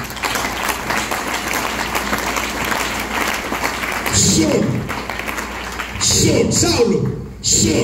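A church congregation in worship applauds and cheers in a sustained wash of clapping, with swells near the end, while a voice speaks over it.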